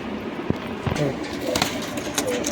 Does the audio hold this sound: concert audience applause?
no